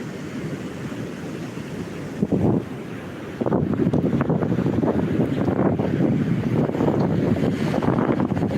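Wind buffets the microphone on a Gulf beach, a roaring gusty rush over low surf, swelling louder partway through and staying strong to the end.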